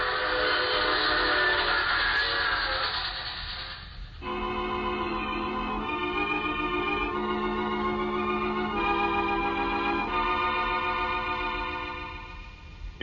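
A steam train whistle blows long and steady, then a multi-tone train horn sounds over the rolling rumble of a moving train, as a sound effect in a 1950s radio drama.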